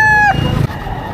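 Rooster crowing once, loud and close, a strained harmonic call that breaks off midway, heard at a chicken market in Padre Garcia, Batangas, with background murmur continuing after.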